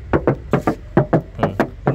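Knuckles knocking on the body panel of a 2005 Grand Touring Turbo car with its original sound damper, about a dozen dull, close taps in quick pairs.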